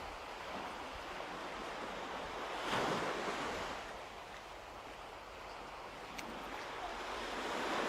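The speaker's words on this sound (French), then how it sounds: "écoutez les vagues" Sea waves wash up on a shore and draw back, a soft, continuous surf that swells to a louder rush partway through before settling again, with light wind and no voices.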